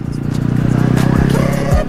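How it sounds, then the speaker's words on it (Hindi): A Yamaha R15 V3 motorcycle rides through a tunnel, its engine a loud, close, echoing drone that dips in pitch twice during the ride. "टनल के अंदर क्या बसता है इसका साउंड,"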